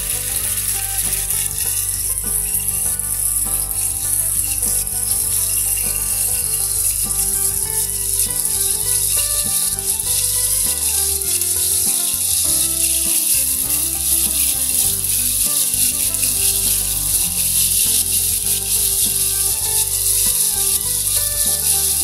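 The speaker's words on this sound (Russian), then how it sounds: "Наша сковорода прокалилась, укладываем на нее корейку." Pork belly frying in oil in a preheated skillet for fried eggs, giving a loud, continuous crackling sizzle with occasional rattles of the pan throughout.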